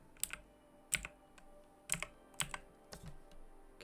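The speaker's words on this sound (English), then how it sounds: "Just typing random things." Computer keyboard typing heard up close, about half a dozen distinct key presses spaced unevenly, each a crisp soft click over a quiet room.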